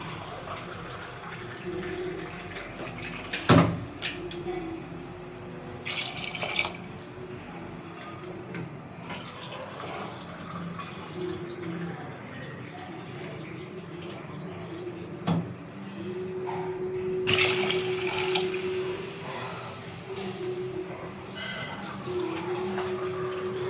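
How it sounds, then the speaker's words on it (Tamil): Water poured into a cooking pot for prawn biryani rice, measured at four cups for two cups of rice, making a steady splashing rush in the final seconds after scattered kitchen clatter and knocks. "தண்ணி வச்சுக்கலாம். 2 டம்ளர் அரிசிக்கு 4 கப்பு"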